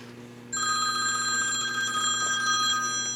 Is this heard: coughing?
no